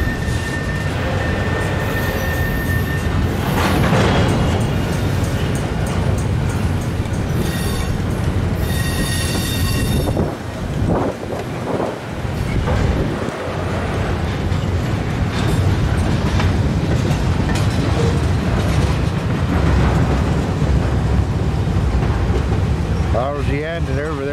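The tail end of a long intermodal freight train rolls past a rail yard in Cumberland, with loud, steady rumbling of wheels and cars close by and squealing wheels near the end as the last cars go through.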